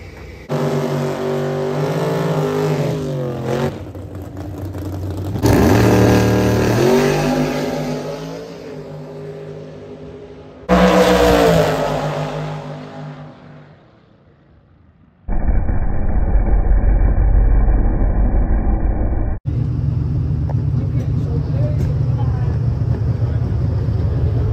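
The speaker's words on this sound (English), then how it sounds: "Another blower car." A supercharged blower hot rod engine at a door-slammer drag race at Skelton Raceway, revving hard in loud bursts, roaring up and down at close range, then settling into a deep rumbling idle.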